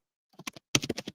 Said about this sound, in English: just typing this for you.